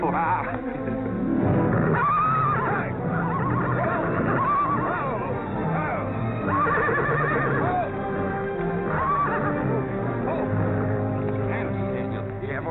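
Horses neigh and whinny repeatedly over a busy, dense background, with some clip-clopping and voices mixed in.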